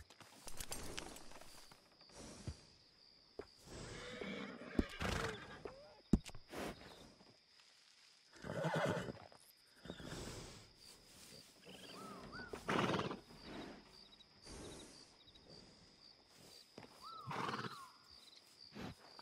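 A horse at a stable in the video game Red Dead Redemption 2 gives several faint whinnies and snorts, with hoof clops and footsteps scattered between them, against quiet ambience.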